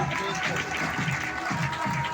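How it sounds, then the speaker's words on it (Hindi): Applause from a seminar audience in a hall in Vashi, a steady wash of clapping throughout, moderately loud, with voices mixed in underneath. "जोरदार तालियां"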